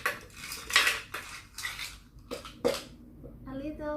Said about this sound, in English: Adding some ice cubes.